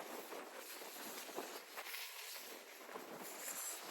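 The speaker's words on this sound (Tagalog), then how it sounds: "Ang problema basta mahangin." Strong wind buffets a handheld cellphone microphone outdoors, making a continuous rough roar with gusty surges and no voices.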